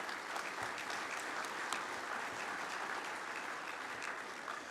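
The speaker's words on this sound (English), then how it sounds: "That deserves a round of applause." Sustained applause from a large crowd fills the space at a speech to iron workers, a steady, even wash of many hands clapping without a break and no voices over it.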